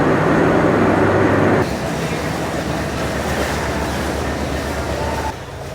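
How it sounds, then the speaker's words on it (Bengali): Sonar Bangla Express between Dhaka and Chattogram, hauled by a 3000 series locomotive with Korean air-brake coaches, rumbling along in a steady low roar that drops to a lighter level after a couple of seconds and again near the end. "আমরা দেখতে পাচ্ছি আমাদের সোনার বাংলা এক্সপ্রেস ট্রেনে 3000 সিরিজের লোকোমোটিভ এবং কোরিয়ান এয়ার ব্রেক কোচ ব্যবহার করা হয়েছে।"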